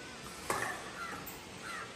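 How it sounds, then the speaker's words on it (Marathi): A crow calls with a sharp, fairly close caw and then a few fainter follow-up caws over quiet outdoor background, with no talking. "थांबा तुम्हाला मी कावळा दाखवते"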